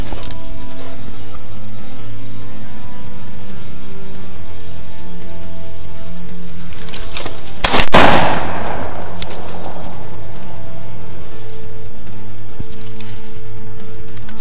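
A single loud shotgun blast rings out during waterfowl hunting, sharp and close, followed by a fading echo over steady outdoor background noise.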